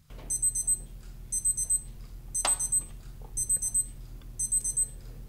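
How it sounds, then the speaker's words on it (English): A Casio G-Shock G-LIDE GWX5700 watch's interval timer beeps in five evenly spaced bursts of four quick, high, thin electronic beeps, close and clear with no talking. "And the beep will be a little bit different this time."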